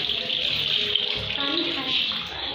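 Tap water runs steadily into a sink while hands are washed at close range, a continuous hiss and splash with brief voices under it.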